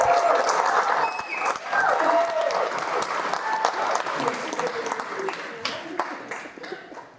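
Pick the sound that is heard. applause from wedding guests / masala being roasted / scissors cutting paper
applause from wedding guests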